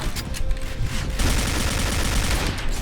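Bursts of gunfire from an HK416 rifle in the online shooter Point Blank, scattered shots at first, then a dense rattling volley, loud and close.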